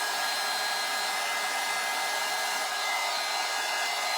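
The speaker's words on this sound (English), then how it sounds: "Now this heat tool gets a little hot." A crafting heat tool blows hot air in a steady, even hiss that stays constant throughout, close and moderately loud with no one talking.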